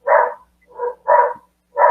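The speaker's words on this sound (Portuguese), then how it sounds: "minha cachorrinha está brava" A small female dog barking in four short, loud, close yaps with brief pauses between them, heard alone without talk.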